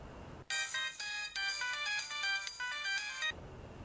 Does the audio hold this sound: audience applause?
no